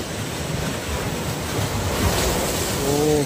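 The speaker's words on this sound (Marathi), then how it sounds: "लाटांवर लाटा." Sea waves on the Konkan coast at Shrivardhan–Diveagar wash in a continuous broad roar, loud and near, swelling slightly toward the end with some wind rumble.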